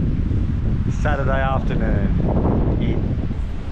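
Wind blowing at a beach on the Whitsundays, a constant loud rumbling buffet across the microphone, with a person speaking briefly over it.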